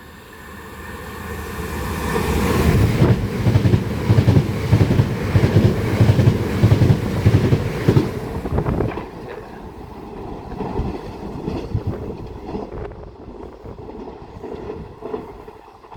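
A train heading for Margate rolls through Swanley station on a Sunday morning, a rumbling, rhythmic clatter that builds, stays loud for several seconds, then fades away into quieter distant rail noise, with no voices.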